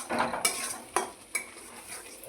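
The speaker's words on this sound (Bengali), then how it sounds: "বন্ধুরা এই মশলাটা আমার কষাতে শুরু করেছি।" Spice masala being stir-fried in a pan for soya chunk curry, with three sharp scraping strokes of a spoon against the metal over a soft, steady sizzle.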